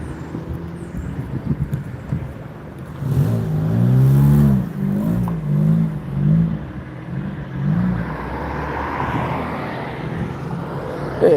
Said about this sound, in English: that's one of their trucks now pulling out.